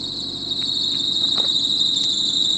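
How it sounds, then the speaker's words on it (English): A Mazda 121's fan belt squeals steadily as the car engine starts, a loud, sustained high-pitched whine that carries through the whole stretch with slight wavering and a low engine rumble beneath. "that's just the fan belt going off."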